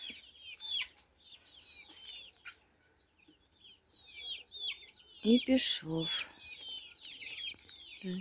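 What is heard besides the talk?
chickens clucking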